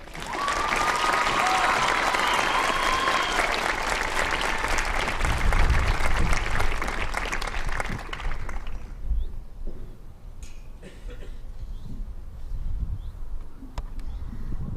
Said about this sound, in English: Please give a round of applause to Paula Boland.